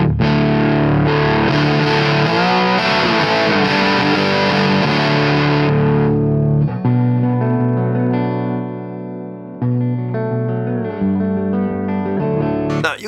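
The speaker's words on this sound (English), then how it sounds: "now you can hear it's breaking up probably more than I wanted to" An electric guitar with a torrefied maple neck and gold foil humbucker plays through an amp driven into distortion, sustained fuzzy chords ringing loudly, then thinning into held, breaking-up notes with brief pauses.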